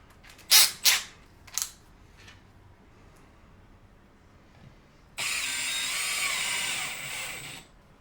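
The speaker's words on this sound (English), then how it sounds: "This is that subcompact. It's not a bad drill." Several sharp clacks and clunks sound up close, then a Milwaukee subcompact drill whirs for a couple of seconds in one steady, high burst before stopping.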